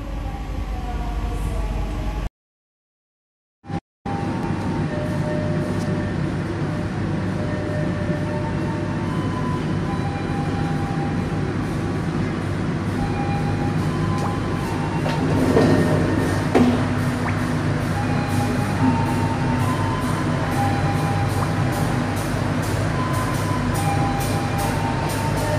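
Inside a carriage of the Sancaka Utara economy-class train, a steady low rumble and rolling hum fill the space, with faint rhythmic clicking of wheels over rail joints and a brief dropout near the start.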